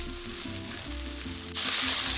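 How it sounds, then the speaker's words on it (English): Loud, steady sizzling of chicken stir-frying in a hot pan, with a burst of stronger hissing near the end as it is stirred. "we'll start stir frying this up"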